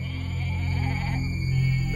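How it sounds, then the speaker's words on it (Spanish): Sheep bleat in a retelling of the Cyclops cave tale from the Odyssey, a steady wavering cry that carries through the whole two seconds, fairly loud and close with no talking over it. "Al amanecer, las ovejas salen a pastar con Odiseo y sus hombres colgando de sus barrigas."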